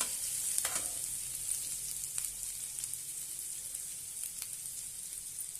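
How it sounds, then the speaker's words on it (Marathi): Grated ginger fries quietly in a pan with a faint, steady sizzle and a few light clicks of stirring. There is no talking. "त्यामध्ये थोडंसं आलं खिसून घेतलेलं आहे ते घालूया। छानपैकी परतून घेऊया।"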